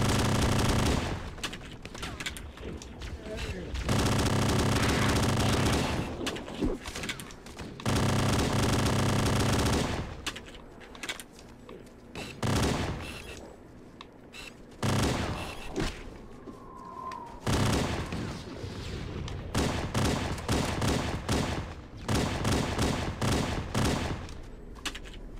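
Heavily modified Glock pistol firing in the video game Cursed Halo, with rapid near bursts of shots in several loud stretches separated by quieter gaps.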